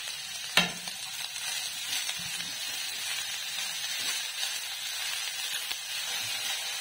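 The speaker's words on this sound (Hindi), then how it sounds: "अभी हम डाल देंगे पत्ता गोभी, इसको भी 30 सेकंड के लिए कुक कर लेंगे।" Shredded cabbage stir-fries in a pan over a full flame for Hakka noodles, giving a steady, close sizzle and hiss with occasional sharper clinks and stirring scrapes.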